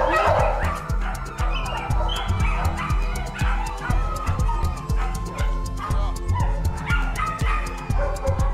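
Several dogs held at an animal rescue bark in rapid, overlapping bursts with yips and whimpers, loud and close throughout, with faint human talk beneath the din.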